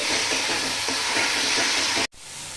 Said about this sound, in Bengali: এবার ভালো করে আরেকবার আমি কষিয়ে নেব